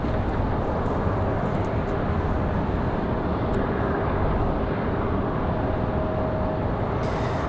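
Frontier airliner departing Raleigh-Durham for Chicago O'Hare, a continuous loud engine roar with a faint steady whine running through it, unbroken and without voices.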